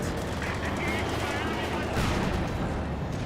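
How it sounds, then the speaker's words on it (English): Mattress rocket artillery barrage in Company of Heroes 2, a dense rumbling roll of launches and impacts running continuously, with a heavier burst midway, under battlefield din. "Mattress artillery on the way."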